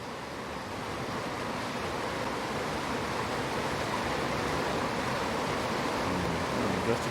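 Waterfall on Timber Hearth in the video game Outer Wilds, a dense, steady roar of falling water that swells slightly and stays loud and continuous throughout, with no one speaking.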